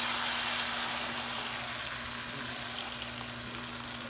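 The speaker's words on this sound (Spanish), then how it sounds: "lo voy a poner en el mismo sartén, la misma cacerola, para que se cocine este huevo" Leftover egg cooking in a frying pan, a steady soft sizzle with faint bubbling and occasional small pops, continuous and moderately quiet with no talking.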